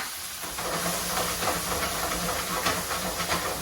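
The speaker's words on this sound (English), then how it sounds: "We're going to deglaze our pan with our lemon juice." Lemon juice hits a hot pan while making chicken tikka masala and throws up a loud, continuous steam hiss that rises sharply and holds steady for a few seconds, with no talking.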